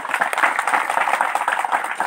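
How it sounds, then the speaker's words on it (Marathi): An audience at a lecture on Maharana Pratap in Pimpalgaon Niphad claps hard in a dense, even burst of applause lasting the whole moment, with no talk over it. "एकदा जोरदार टाळ्या त्या 4 ओळींसाठी असू द्या"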